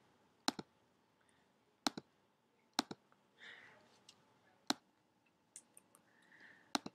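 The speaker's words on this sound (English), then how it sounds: "so I'm going to go ahead and click it again." Sharp, isolated clicks of a computer mouse, about six spaced irregularly over several seconds, close and fairly loud against a quiet background with a faint low rustle between presses.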